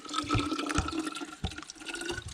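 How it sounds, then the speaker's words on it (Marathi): A year-round spring fed from the hills flows nearby in a steady, gurgling trickle with soft splashes, and no other sounds are present. "हा पूर्णपणे असं डोंगरामधून आलेला हा झरा"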